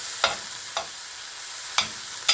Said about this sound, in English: Just going to give this a quick stir